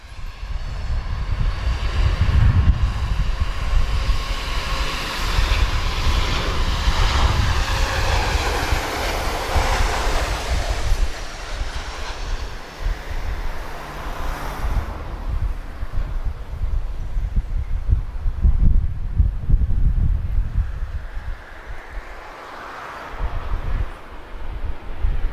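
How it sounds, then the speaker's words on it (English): An airliner lands at Lisbon Airport with reverse thrust, a loud broad roar that swells and rumbles across the runway, fading into wind noise before a second swell, heard from a distance outdoors. "She's giving us nice reverse thrust there."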